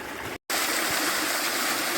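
Moorland stream rushing over a waterfall on Crowden Little Brook, a loud continuous broadband roar with one brief dropout near the start.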